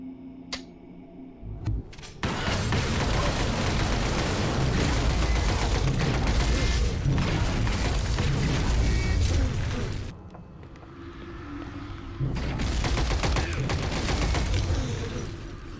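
A deployed turret fires in the XCOM video game, with loud, sustained rapid bursts of gunfire that break off briefly and then resume, overlaid with game sound effects.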